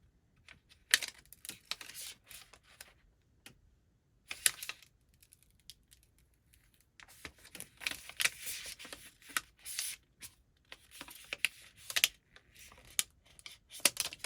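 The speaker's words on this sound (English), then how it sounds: "pulling this backing up and pulling the tape down" Backing is peeled off TeckWrap vinyl transfer tape for a clear acrylic sign, producing close, irregular crinkly crackles and short tearing bursts separated by brief quiet gaps.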